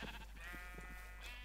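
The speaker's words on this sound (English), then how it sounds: "so we've got the white sheep" Minecraft sheep bleat in a few short wavering cries, close and clear over a low constant hum.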